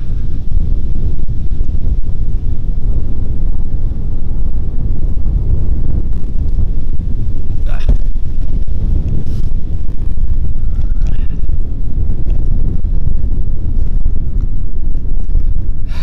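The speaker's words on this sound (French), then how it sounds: "j'imagine qu'on doit quand même entendre le vent" Heavy wind buffets the microphone continuously, a loud, low roaring rumble with no letup.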